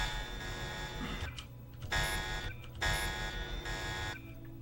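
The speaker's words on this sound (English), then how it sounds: "You turn off the alarm already." An alarm blares in the video game Deus Ex Revision, a loud buzzing tone that repeats in pulses with short gaps between them, heard alone without talk.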